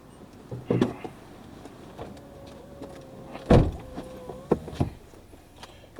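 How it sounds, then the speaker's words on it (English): Power windows closing on a car at a 2018 WashTec SoftCare2 Pro car wash, a faint steady motor whine with a few sharp thumps and clicks around it, fairly quiet and close inside the cabin. "Okay, windows up."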